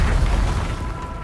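Bombarda blasting spell from Hogwarts Legacy on PC going off as a single loud, dense boom that holds steady for about a second with deep low rumble.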